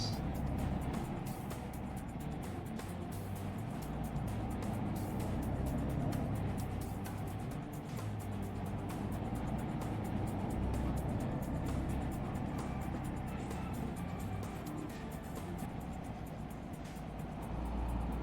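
A DAF truck driven on an Irish road during a first truck lesson, its engine and road noise forming a steady, unbroken rumble heard from inside the cab, with no speech.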